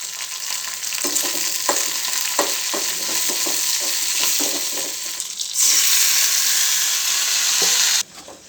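Curry leaves and mustard seeds sizzle steadily in a pan on the stove, a loud continuous frying hiss with scattered crackles and pops, rising sharply louder for a few seconds near the end before cutting off.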